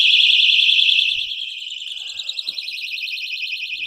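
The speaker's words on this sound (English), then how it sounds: "I have an alarm here, a very loud alarm" A very loud shrill alarm tested against dense-packed cellulose and mineral wool insulation, a continuous pulsing electronic tone that drops to a quieter level after about a second and keeps sounding steadily.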